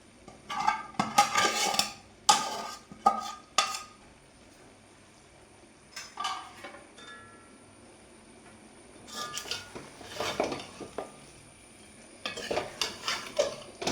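Cooked chicken being stirred in a pan after spice paste goes in, with bursts of spoon scraping and clinking against metal in uneven clusters, close and moderately loud, separated by quieter gaps.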